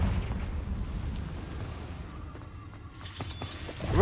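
Confringo spell explosion in Hogwarts Legacy, inside a cave, a rumbling blast decaying through the first seconds, then a sharp crackling burst with shattering debris at the end, no talk.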